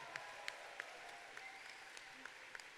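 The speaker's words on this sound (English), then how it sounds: "Another round of applause for these guys." Sparse, scattered clapping from a convention audience sounds faint and distant, with a few sharper individual claps standing out over a quiet room hum.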